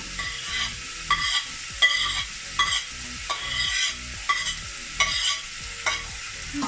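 Garlic, onion and peppers sizzle in a pan and are stirred in repeated rhythmic scrapes, each stroke a sharp clatter over a continuous frying hiss, close and fairly loud.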